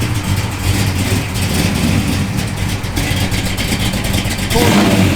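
A 1966 Plymouth Satellite Hemi engine rumbles loudly up close, a deep throaty idle that swells into a brief rev near the end.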